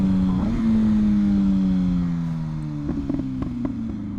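A MV Agusta Brutale 1000RR motorcycle exhaust drones steadily at close range, its pitch sliding slowly downward as the engine eases off, followed by a few short, sharp blips of throttle near the end.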